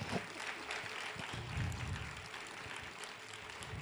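Audience applause at a classical dance festival, a broad steady wash of many hands clapping together, fairly close and even throughout.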